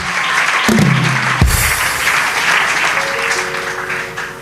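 A church congregation bursts into applause, a dense, sustained clapping that swells after a brief voice at the start, with a faint held musical tone entering near the end.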